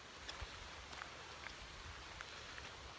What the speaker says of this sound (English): the rain is so good if you're prepared for it